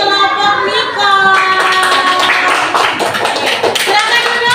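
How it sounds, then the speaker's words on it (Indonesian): A classroom of students claps for a presenting group, steady dense hand claps close by over a few seconds, with children's voices chattering beneath and some louder taps standing out. "Kita beri tepuk tangan untuk kelompok Nicole"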